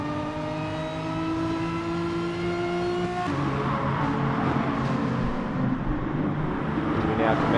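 Race cars lapping in Gran Turismo Sport during an FIA Nations Cup race, with a steady, droning engine whine that shifts pitch as a gear changes, continuing under a commentator's talk.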